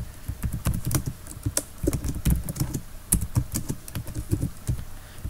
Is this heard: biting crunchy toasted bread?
no